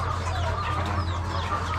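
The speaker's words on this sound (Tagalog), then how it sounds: "yung ating isang manok na naglilimlim dito" A brooding hen sitting on eggs clucks softly in a continuous low murmur, nearby, over a steady background hum.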